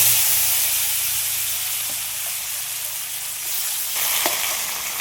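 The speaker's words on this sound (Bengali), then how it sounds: "আলুগুলো একটু লাল লাল করে ভেজে নেব" Potatoes frying in hot oil that has just been used for prawns, a loud continuous sizzle and hiss with occasional spatters and a brief stir, close up.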